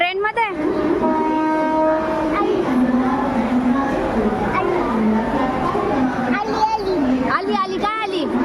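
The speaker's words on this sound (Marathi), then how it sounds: "आमची ट्रेन आलेली आहे." A passenger train pulls into a station on a family trip, its horn blaring loudly at the start over a steady rolling rumble, while people chatter close by throughout.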